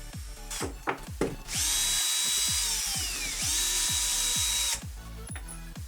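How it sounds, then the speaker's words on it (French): Power drill with a bit boring through wood while building a wooden clamp, a loud sustained whine lasting a few seconds, with clicks and knocks of handling before and after. "Ensuite, je perce, d'abord avec une mèche égale au diamètre de la tige filetée, puis au diamètre de l'écrou."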